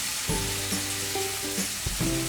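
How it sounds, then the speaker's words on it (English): Vegetables fry in oil in a pan with a steady, loud, close sizzle, broken by a few brief clinks and scrapes from stirring or turning, and no speech. "You're going to flip the vegetables over, and if you need to, add more oil or vegetable broth"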